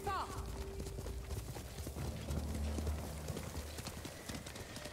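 Rapid clip-clop of horse hooves galloping in the video game Ghost of Tsushima, dense and continuous, with a short whinny at the start and some background noise.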